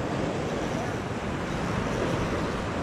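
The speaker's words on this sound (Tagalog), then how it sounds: "May alon, may alon." Ocean waves on the shore at Salalah, Oman, during rough seas, roar as a constant loud wash of surf with wind.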